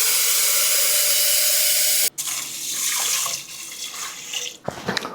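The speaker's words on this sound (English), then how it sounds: "So I put the water in" Water pours steadily into a rice cooker holding white jasmine rice: a close, continuous hiss that breaks off briefly, then resumes with a rougher, splashier texture and ends in a few small splashes. No one speaks.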